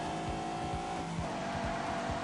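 A big car accelerates hard in The Grand Tour video game on PS4, its engine a steady, loud drone climbing in pitch, broken by regular low thumps like gear shifts or road bumps.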